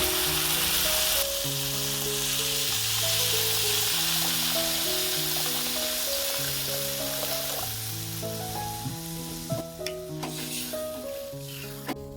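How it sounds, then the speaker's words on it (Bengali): Water is poured onto spice paste frying in oil for a vegetarian bitter gourd and potato curry, setting off a loud burst of hissing that quickly settles into a softer steady sizzle beneath background music. "এবার দিয়ে দেবো পরিমাণ মতন জল"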